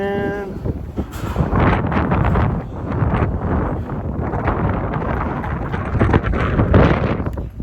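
Strong gusty wind buffets the microphone outdoors, a loud continuous roar that surges and eases over several seconds without a break.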